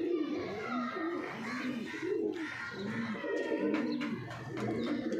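A black bird calls near its eggs, soft repeated cooing notes in a steady rhythm, close and fairly quiet, with faint chirps around and no clear talk.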